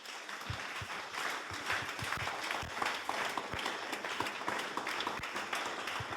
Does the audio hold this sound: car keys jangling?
no